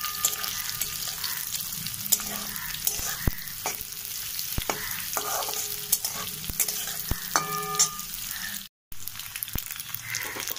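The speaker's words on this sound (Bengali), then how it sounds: "চালটাও ভেজে নিচ্ছি।" Soaked aatap rice fries in oil with bay leaves and cumin while a spoon stirs it in the pan. A constant close sizzle runs under scattered sharp scrapes and taps, with one short break near the end.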